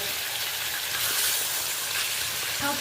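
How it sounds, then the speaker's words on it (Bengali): Hilsa fish heads rubbed with salt and turmeric fry in hot oil in a wok, giving a steady, even hiss that stays loud and unbroken the whole time, with no voices over it. "মাথাগুলো দিয়ে দিলাম প্রথমত আমি মাথাগুলো ভালো করে ভেজে নেব"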